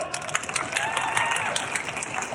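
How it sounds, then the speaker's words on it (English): Audience applause at a Be a Teacher Day speech in Little Caesars Arena, a dense wash of clapping with scattered cheers from a large crowd, steady and fairly loud throughout. "Clap it up"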